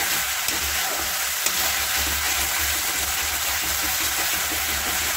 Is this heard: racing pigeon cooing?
no